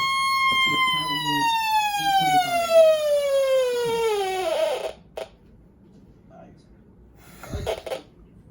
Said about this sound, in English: The siren works, that's for sure.